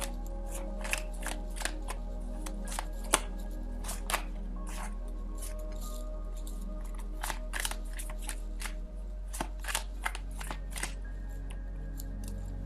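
Tarot cards being shuffled and handled close up, a quiet series of irregular riffling snaps and flicks over a low steady background hum, with no talk.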